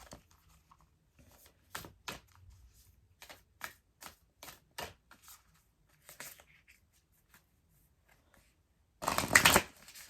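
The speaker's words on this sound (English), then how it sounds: "let's pull one more Universe Has Your Back oracle card to finish off this week." Oracle cards from the Universe Has Your Back deck being shuffled by hand, a series of crisp separate riffle and tap bursts ending in one louder flurry, close and clear with no talking.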